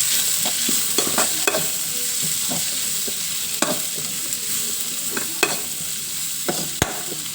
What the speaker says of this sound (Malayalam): അപ്പം നമുക്ക് ഈ സബോള വാട്ടിയെടുക്കണം